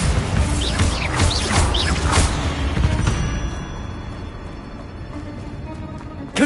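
Loud magical blasting impacts from a Bombarda spell in the Hogwarts Legacy video game, a dense crashing burst dominating the first three seconds before fading into a lower rumbling tail with a sharp hit at the end.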